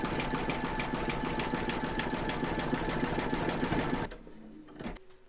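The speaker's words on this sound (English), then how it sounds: "We're now going to stitch round number 13, and that's going to zigzag along here and join this segment to this one." An embroidery sewing machine runs a zigzag stitch across a crazy patch quilt block in the hoop, a fast, even mechanical whirring with rapid needle ticks that stops abruptly near the end, followed by a few quiet clicks.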